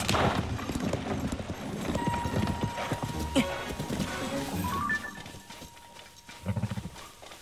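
Horse hooves clop at a stable in the Zelda: Tears of the Kingdom video game, with occasional whinnies mixed into game ambience and light background activity.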